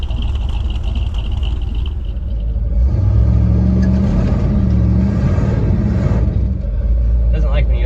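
A Ford Bronco drives over snow in Alaska, its wheels caked with snow; a steady low engine rumble and road noise continue throughout, with people talking over it.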